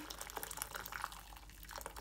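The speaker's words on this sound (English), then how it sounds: "If you want to help the potato to cook quickly, so you can just add hot water." Hot water poured into a pot of potatoes for creamy potato soup, a steady splashing, trickling pour heard close up and alone with no talk.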